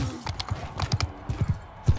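Horse hooves clip-clop in Mount & Blade II Bannerlord during a four-against-four arena fight: a brisk, uneven run of sharp, close hoofbeats, with the loudest strike near the end.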